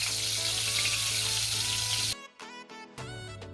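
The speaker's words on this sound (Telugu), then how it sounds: "దీంట్లో కొద్దిగా జీలకర్ర వేసుకోవాలండి." Cumin seeds hitting hot oil in a pan for a Hyderabadi tomato masala give a loud, steady sizzle with a low hum. It then breaks into short bursts of frying crackle. No one speaks.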